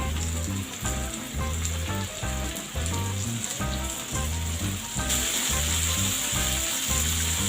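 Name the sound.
vegetables frying in a pan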